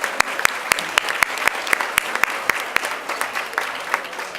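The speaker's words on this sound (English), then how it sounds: "So let's give her a round of applause." Audience applause for a tenants' advocate at a legislative gathering in the District of Columbia, a steady wash of many hands with sharp individual claps standing out, moderately close and without talk.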